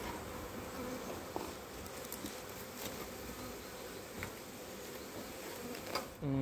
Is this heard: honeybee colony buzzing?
yes